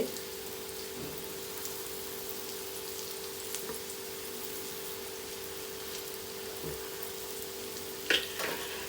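Taro root vadas fry in oil over a low flame, giving a steady, soft, even hiss with faint crackles and a brief louder spatter near the end.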